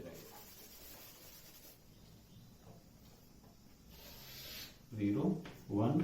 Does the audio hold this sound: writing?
yes